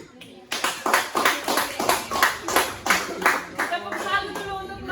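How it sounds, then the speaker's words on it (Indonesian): A classroom claps together for a presenting group in a rhythmic, unison clapping game. Bursts of claps come in regular beats, with voices chanting along in the background. "Tepuk salut dulu untuk kelompok 3."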